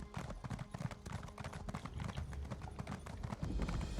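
Horse hooves gallop at speed in The Elder Scrolls Online, a steady, fast clip-clop rhythm of many close, loud hoofbeats with no talk over them.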